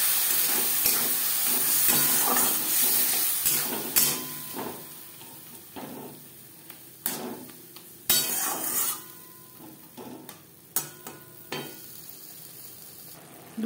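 Spice paste for a fasha fish curry sizzles in a pan while a spatula stirs and scrapes it, giving a soft frying hiss broken by irregular sharp clinks and knocks of the utensil against the pan, with no voices.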